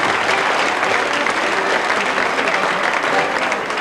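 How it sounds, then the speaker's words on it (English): A festival audience applauds loudly and continuously after a step dance performance, a dense wash of clapping that holds steady throughout. "Let's give him another round of applause."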